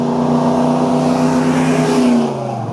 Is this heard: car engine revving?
yes